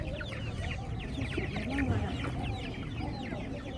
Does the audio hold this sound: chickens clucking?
yes